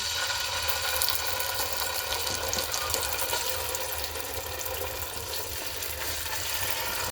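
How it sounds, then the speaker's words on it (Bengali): Blended carrots frying in ghee with cinnamon in a pan, a steady close sizzle and hiss running without pause and no voices. "আমি ব্লেন্ড করা গাজরগুলোকে ঘিয়ের সাথে কিছুক্ষণ ধরে ভেজে নিব"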